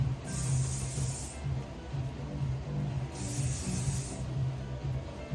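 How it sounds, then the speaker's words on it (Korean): Hairspray hisses from a can onto hair in two steady bursts of about a second each, close and fairly faint, over a low background hum. "전체적인 볼륨을 좀 더 살려주면서 유지력이 좀 더 있게끔 스프레이로 마무리해줄 건데요"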